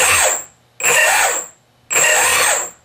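A motor on a giant hexacopter spins counterclockwise during a rotation test, revving up in three loud bursts with a sharp whine, each cutting off into short pauses.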